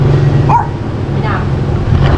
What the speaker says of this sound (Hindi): ये छोटा सा कुत्ता मेरे ऊपर भौंक रहा है यार